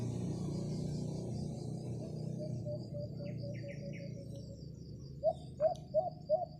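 A wild alimokon calls from high in a naga tree during a bird hunt: four or five low, hollow hoots in quick succession near the end, ringing over constant insect buzz.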